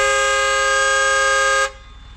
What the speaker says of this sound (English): So they are hooting to allow people to come and scoop and throw inside.